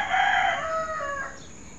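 A single rooster crows one drawn-out cock-a-doodle-doo in the rural countryside, fairly close and clear over quiet background.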